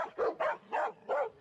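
A dog barks in four quick, evenly spaced yaps, at moderate distance and fairly faint, with no talking.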